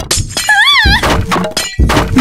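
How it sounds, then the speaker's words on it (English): Barricades being smashed in the Minecraft video game: loud thuds and breaking crashes that overlap with a wavering tonal game sound and dense clutter, with no voices. "He destroyed all the barricades."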